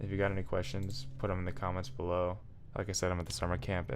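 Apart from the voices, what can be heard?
None of the usual background noises is heard.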